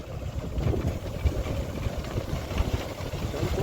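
A ro-ro ferry engine rumbles at low pitch, a steady, dense drone that stays even and close throughout with no voices over it.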